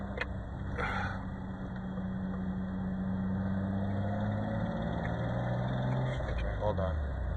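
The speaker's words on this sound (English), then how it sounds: "It actually sounds like it's coming from the transmission." A 1994 Nissan Pathfinder SE-V6 4x4 with a 5-speed manual transmission makes a steady droning noise while driving, a low continuous whine and rumble heard close up under someone talking.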